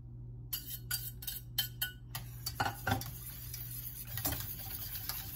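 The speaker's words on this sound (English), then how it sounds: "I'm going to take the melted coconut cream, and I'm going to whisk in the yeast mixture" A whisk beats yeast mixture into melted coconut cream in a bowl, producing a quick run of sharp metallic ticks and clicks at close range, followed by softer scraping.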